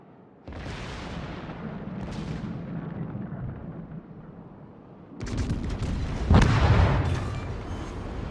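Heavy battleship gun salvos boom in World of Warships, two dense bursts of deep rumbling blasts with a louder, closer volley near the end, no talking.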